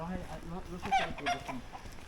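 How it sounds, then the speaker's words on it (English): Large chickens in a chicken house make short, nasal clucks that come close together in a brief burst. A voice is heard faintly among them. "Some big chickens."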